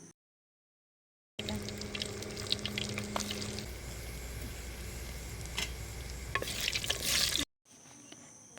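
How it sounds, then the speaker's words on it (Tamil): Garlic sautéing in a pan over a wood-fired stove after mustard seeds have popped, a steady close hiss and sizzle with stirring scrapes that grows louder before cutting off, with faint crackle afterward. "பூண்டு சேர்த்து நல்லா வதக்கிக்கலாம்."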